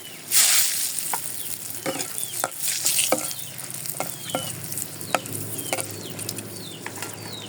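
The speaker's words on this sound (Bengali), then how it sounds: "এই তেলে আমি মরিচ ভেজে নিব" Chilies frying in fish oil at a Mawa ghat fish-fry stall, a loud steady sizzle with scraping stirs and spatula knocks, close up and with no voices.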